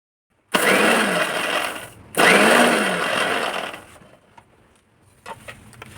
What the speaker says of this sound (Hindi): मिक्सी को हमने सिर्फ 1 या 2 सेकंड ही चलाना है